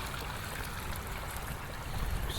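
Dirty brown, rust-laden rinse water drains steadily out of a rusty fuel tank from a 240SX being readied for an LS swap, a continuous close trickling and splashing rush that swells slightly louder toward the end.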